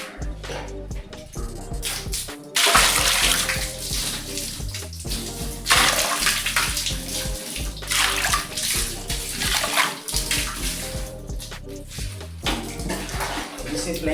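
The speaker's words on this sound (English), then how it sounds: "So we'll use water to rinse that out." Water runs steadily to rinse sediment out of a toilet flush valve during a repair, a continuous loud gushing and splashing with brief pauses, with a voice talking over it.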